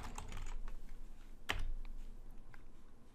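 Steady typing on a computer keyboard goes on throughout, with close, rapid key taps and one sharper keystroke in the middle while a JavaScript client app is being tested.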